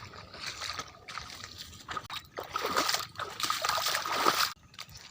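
Water sloshing and splashing through a flooded local area and fields, a series of uneven splashes of moderate loudness, as if someone is wading knee-deep, with no talk over it.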